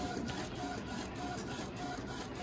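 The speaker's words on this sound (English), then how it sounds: "All right, so it's printing, y'all. It's printing." A printer prints a sublimation transfer for face masks, with a steady mechanical whirring and faint periodic clicks of the print head moving back and forth, close and alone, ending on a louder clunk.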